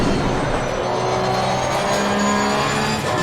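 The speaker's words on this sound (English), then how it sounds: "you can hear how the car is just squeaking and not getting the grip" Damaged race car in Assetto Corsa Competizione at the Zolder circuit, its engine droning steadily with a thin tire squeal running over it as the car fights for front grip. The sound is loud and constant, with no voices.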